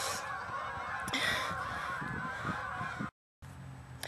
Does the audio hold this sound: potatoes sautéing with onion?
no